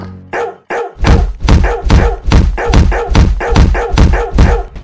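A cartoon dog barks loudly in a fast, evenly spaced run of about a dozen punchy barks, close and alone after a brief opening sound.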